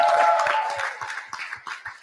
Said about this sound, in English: A bigger clap, please.